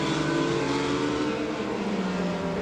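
Formula 3000 race cars at the 2002 Hungarian round, running behind the safety car: a steady, loud engine drone with sustained tonal whine and no clear pass-by peak, alone without talk.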